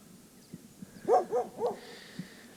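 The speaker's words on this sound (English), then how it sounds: "When you get into these smaller areas, the dogs are just vicious." A dog in the Ecuadorian countryside barks three times in quick succession, fairly loud and near, with scattered faint thumps and quiet outdoor background before and after.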